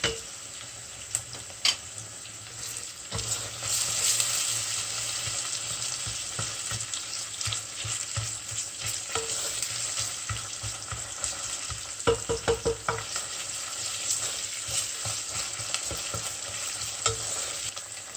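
Onions fried with pepper paste sizzle and crackle steadily in a hot pan, with occasional scraping and stirring sounds from a utensil close by.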